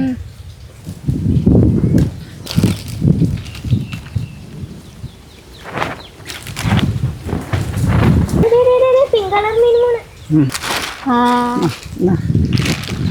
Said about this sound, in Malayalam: മഴ പൊടിയാണല്ലോ